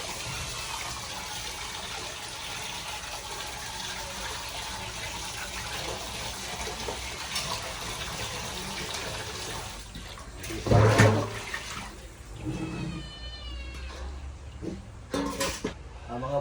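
Pork ribs rinsed in water for a second wash before cooking adobo, a steady gushing run of water with a louder splash near the end and a few short bursts after.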